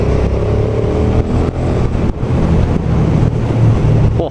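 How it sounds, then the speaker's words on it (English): A V-twin motorcycle engine growls deep and throaty at close range under riding wind rush, a continuous low rumble with slight surges and revving pulses, no talking. "Such a deep throaty growl to this bike, I love it."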